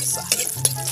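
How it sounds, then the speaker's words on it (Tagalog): Spices sautéing in a hot pan while crab dishes are prepared, a soft steady sizzle broken by a few short scrapes of a utensil stirring through the oil. "At pagkatapos yan, yung ating mga ingredients naman ay ating gigisa. Gisa muna tayo mga birds ang ating spices."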